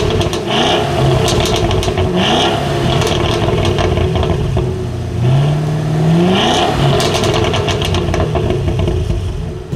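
A 2024 Cadillac CT5-V Blackwing performance sedan revving hard while in park, its big engine rising and falling through repeated loud blips and sustained revs, close up and with no talking.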